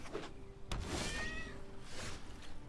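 A house cat gives a soft, rising meow close by. Several short faint meows follow against low room noise.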